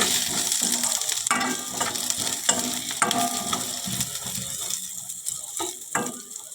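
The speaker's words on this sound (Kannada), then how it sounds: "ಪಾನ್ಗೆ ಎರಡು ಸ್ಪೂನ್ ಎಣ್ಣೆ ಹಾಕ್ಕೊಂಡು ಒಗ್ಗರಣೆ" Spices for a village-style palak sambar sizzle in two spoons of hot oil in a pan, a close, steady frying hiss broken by repeated clinks and scrapes of stirring, with no talking.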